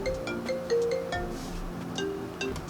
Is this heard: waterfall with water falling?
no